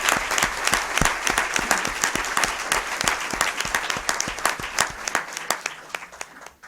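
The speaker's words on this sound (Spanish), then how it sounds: "Un aplauso para Manuel." A packed audience at a book presentation on Gothic queens claps for Manuel, sharp distinct hand claps in a lively, continuous round that thins out toward the end.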